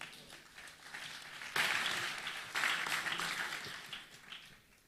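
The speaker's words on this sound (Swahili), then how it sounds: "Unaweza keti tuwapigia makofi." An audience at a finance and investment forum claps, the applause swelling in two waves and fading, moderately distant with no talk over it.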